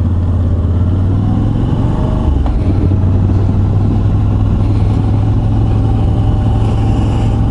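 Moto Guzzi V85 TT 2022 Travel motorcycle engine accelerating on the road, a loud, steady, close engine drone with a brief dip around the middle and heavy wind rush throughout, no speech.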